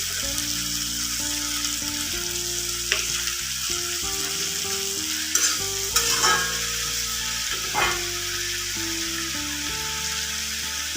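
Fish sizzling and frying in a pan while being stirred, a steady close hiss with scraping stir noises and a few sharper pops, continuous with no talk.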